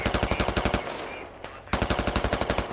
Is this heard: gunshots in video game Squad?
yes